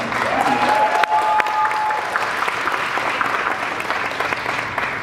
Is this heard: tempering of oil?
no